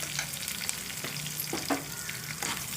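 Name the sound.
curry leaves frying in oil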